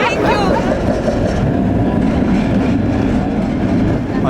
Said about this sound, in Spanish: Vamos a subir al tranvía, que es bastante viejete y no es como el de Zaragoza